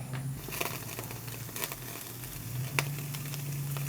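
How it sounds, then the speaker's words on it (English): Steaks sizzling on the grates of a ceramic burner grill turned up high, a steady close crackle and hiss with scattered pops, no talking. "We got the most sizzling once we put it on the grates."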